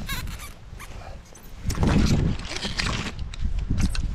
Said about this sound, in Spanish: Ay, ese cachorro.